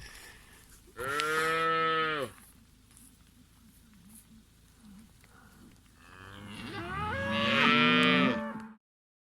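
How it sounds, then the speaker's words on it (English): Cattle in a small suckling herd on a farm moo twice, a long loud call near the start and another drawn-out, overlapping bellow later, with quiet farmyard background between. "nice to see a good, nice little herd of cattle and and they calve"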